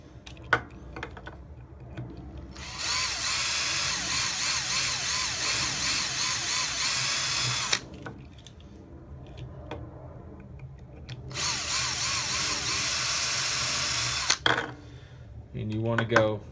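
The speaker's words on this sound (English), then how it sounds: "And all I'm doing is just drilling right into the middle of the rivets here." A power drill bores into the rivets on the underside of a die-cast Hot Wheels car, two long steady whining bursts of several seconds each, loud and close, with short pauses and brief talk between them.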